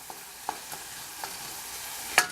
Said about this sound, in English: So again, you want to stir every now and then